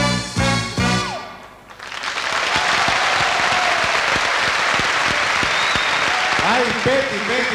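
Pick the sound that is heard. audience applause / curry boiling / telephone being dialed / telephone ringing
audience applause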